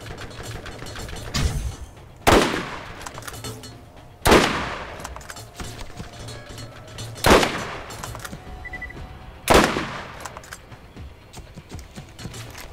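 Sniper rifle fire in the video game Borderlands, four loud, separate cracks spaced a couple of seconds apart, each with a short echoing tail over low game ambience and no one speaking.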